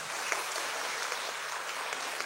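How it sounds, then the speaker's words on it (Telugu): An audience at a church gathering honoring a diocesan priest claps together in a dense, steady patter of many hands that holds evenly throughout at moderate volume. "గట్టిగా చప్పట్లు కొడదాం."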